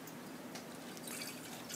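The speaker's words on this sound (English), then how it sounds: "So we pour it into jars through a filter." Milk poured from a pail through a filter into jars makes a soft, steady trickle and splash. It stays fairly faint and grows slightly fuller toward the end, with no voices.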